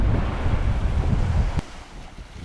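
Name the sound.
wind blowing at Gibraltar airport during landing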